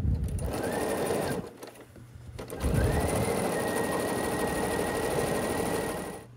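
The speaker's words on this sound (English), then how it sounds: "after you finish sewing that last seam of your border, your quilt top is all finished" A sewing machine stitches a quilt border seam in two runs of fast, even mechanical whirring, separated by a short pause, close and clear.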